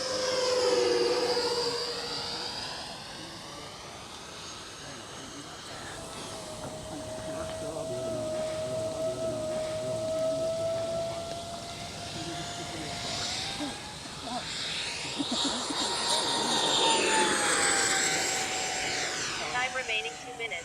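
An RC SR-71 model jet with electric ducted fans salvaged from a crashed B-58 flies overhead, its steady whine rising and falling in pitch as it passes, sometimes near and loud, sometimes farther off.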